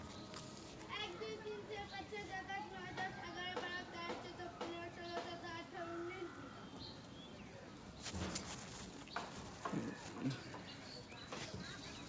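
Big Kaldom pigeons cooing close by, with repeated warbling coos in the first half and someone talking over them.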